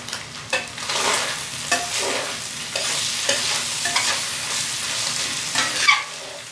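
Grass-fed ground beef sizzles and browns in a pot on a small burner while a spoon stirs and scrapes it repeatedly, the frying steady and close.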